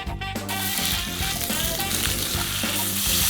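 Square-cut skin-on pork belly sears in a hot pan, giving a loud, steady sizzle and crackle that runs without a break. Occasional clinks and stirring sounds come through, and nobody speaks.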